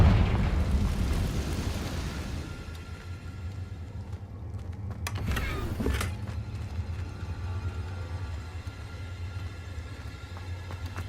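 Confringo fire spell explosion in Hogwarts Legacy, a loud rumbling blast that fades into a sustained low roar, followed by a brief crackling burst midway, with no talk.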